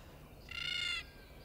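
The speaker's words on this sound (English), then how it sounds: "No good bird." A single harsh bird call, faint and distant, rises for about half a second over a low background hum, then falls silent.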